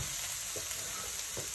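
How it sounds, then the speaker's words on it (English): Garlic frying in a hot pan gives a steady soft sizzle and crackle close by, with faint stirring clicks and no voices. "Once your garlic's been frying off for a wee minute or two,"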